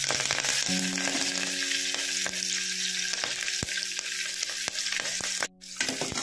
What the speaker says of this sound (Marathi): थोडं परतवू आणि तेलावर कांदा सोडूया